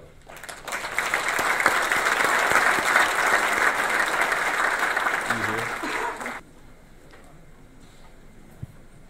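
An executive summit audience in San Jose applauds a speaker being welcomed, a strong sustained burst of clapping lasting about six seconds before cutting off to quiet room tone.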